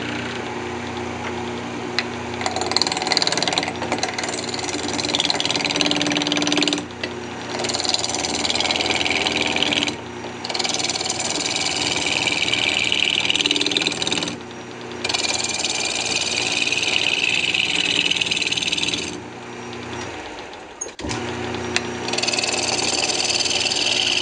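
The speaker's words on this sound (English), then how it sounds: "let's go ahead and turn the spindles" A wood lathe spins a redwood spindle being trued up, making a loud, continuous whirring hum with bright tool scraping that stops briefly several times before starting again.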